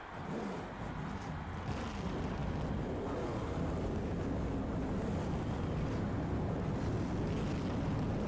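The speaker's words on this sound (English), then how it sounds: "Gentlemen, start your engine." Stock race car engines fire up and roar together at the start of a NASCAR Thunder 2004 video game race at Richmond, a dense, steady, loud rumbling drone that holds without letup.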